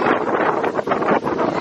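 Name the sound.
strong wind blowing outdoors before hurricane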